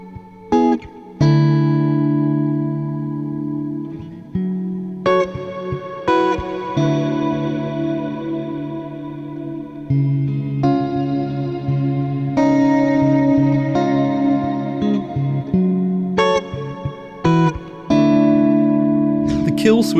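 Sustained synth or guitar notes played through a reverb plugin, each chord blooming into a long shimmering wash that rings and decays between phrases, loud and close, with no talking.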